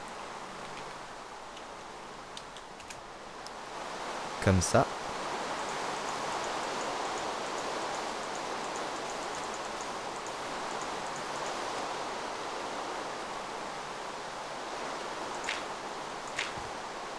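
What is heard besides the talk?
rain falling in Minecraft video game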